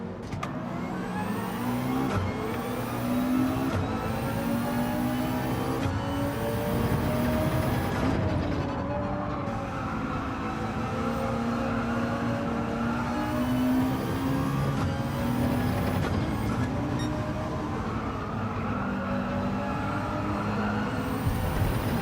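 A McLaren race car in Gran Turismo 7, its engine note climbing and dropping through repeated short-shifted gear changes, loud and continuous over roughly twenty seconds with no talk.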